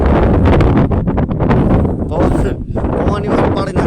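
Strong outdoor wind buffets the microphone in loud, close, gusting rumbles that rise and fall, partly burying a voice talking underneath.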